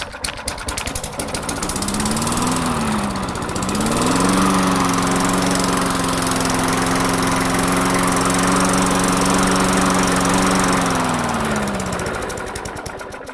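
A Craftsman lawn mower engine runs steadily and loudly, its pitch rising as it revs up, holding a constant drone, then dropping away near the end.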